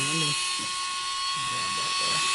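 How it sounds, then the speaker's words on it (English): A Milwaukee cordless tungsten grinder sharpening a tungsten electrode, producing a constant, loud, high-pitched whine while someone talks over it. "It's sharpening that tungsten, as you see."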